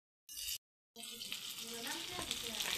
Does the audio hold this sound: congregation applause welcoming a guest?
no